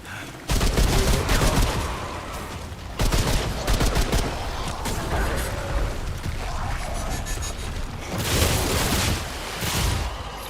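Rapid bursts of gunfire in the video game Remnant 2, loud volleys with brief pauses between, dense overlapping shots and booms filling the scene.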